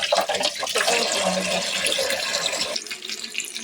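Water pours and splashes into a sink basin as it is rinsed out, a steady close rush that thins out toward the end.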